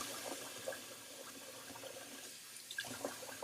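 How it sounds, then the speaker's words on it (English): Tap water runs steadily into a sink as it fills during a wet shave, a continuous moderate splashing rush with small drips and no talking. "I'm just going to fill my sink up just for a little bit. Sorry about the running water"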